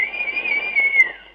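A single long, steady high whistle rings out for about a second, clear and fairly loud, tapering off at the end.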